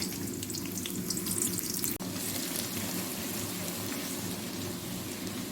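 A medium-sized chopped onion fries in hot cooking oil, giving a steady, close, loud sizzle that runs for the whole stretch with a brief dip near the start and no talking.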